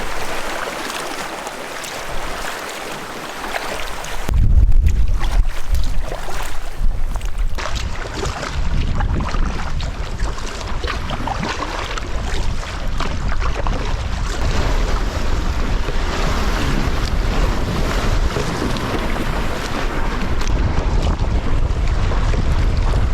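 Strong wind buffets a solo canoe on a large lake close to the shoreline, a loud steady roar with gusty microphone rumble and lapping water, starting suddenly after a quieter opening few seconds.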